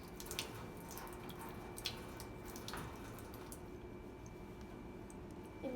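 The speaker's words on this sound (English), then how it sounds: "I will go over to the sink and wash this off the refractometer" Faint water runs from a tap into a sink as a refractometer is rinsed off in a veterinary lab, with soft drips and squishy splashes over a steady low wash.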